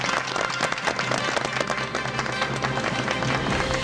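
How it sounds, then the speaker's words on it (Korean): Studio audience on a Korean TV talk show applauding to welcome a guest, a loud, sustained burst of crowd clapping with scattered sharp claps throughout. "여러분 박수로 환영해 주십시오."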